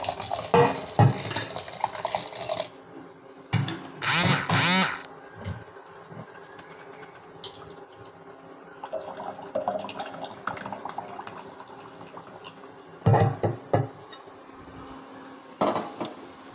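Water being drained from freshly boiled homemade chowmein noodles, with bursts of splashing and running water alternating with quieter clattering of a pot and utensils, close by and without talk.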